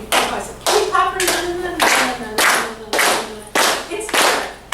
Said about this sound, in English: Right, start with clapping, but it's the 1, 2, 3, 4, 5, 6